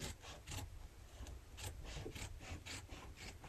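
Scissors trimming quilt batting right to the edge while making sewn coasters, a steady run of soft rhythmic rasping cuts up close, with no talking.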